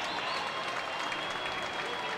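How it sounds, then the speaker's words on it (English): Hockey crowd at a Bowling Green Falcons home game against Miami RedHawks standing and applauding after a penalty kill, a dense, continuous wash of clapping filling the arena. "They are all standing up, applauding the effort by Bowling Green, who kills off the major power play"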